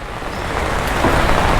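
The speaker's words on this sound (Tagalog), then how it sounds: "Nag-uulan." Steady rain falls outdoors during a grocery pickup under an umbrella, heard as a continuous broadband hiss that builds slightly louder over the moment, with a faint hint of road traffic and no talking.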